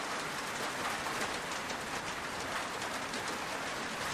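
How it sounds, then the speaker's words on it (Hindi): Steady, dense rain falls without a break, a loud even hiss of drops hitting surfaces in a village setting, with no voices over it. "चीमा के घर के आसपास मछलियों की बारिश हो रही है"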